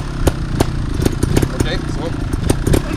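A motorcycle engine runs close by with a steady mid-pitched drone and small throttle rises, while people talk loudly over it during a first-time riding attempt.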